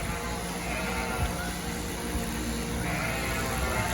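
Sheep bleat now and then amid a steady, noisy background at a shearing, with a few short animal calls rising above the constant hum.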